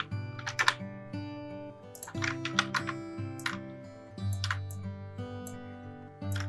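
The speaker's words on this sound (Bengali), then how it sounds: "দেন এখন এখানে আমরা একটা টেক্সট লিখে দিই, জয়ান।" Rapid keystrokes on a computer keyboard, entering text in Photoshop, come in close, uneven bursts with short pauses between them and no voice over them.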